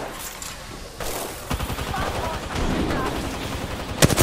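Gunfire in the video game Apex Legends, bursts of shots cracking under ongoing game noise, with a loud sharp blast near the end.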